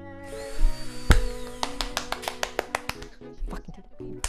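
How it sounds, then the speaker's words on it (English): Power drill switching on, with a burst of short rhythmic mechanical ticks and whirs near the microphone. "When you sub, it turns the goddamn drill on."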